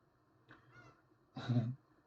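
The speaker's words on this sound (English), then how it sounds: "sorry, I accidentally stepped on my kitty's tail." A pet cat cries out after its tail is stepped on, a short faint mew followed by a louder, sharper yowl, close by with no talking.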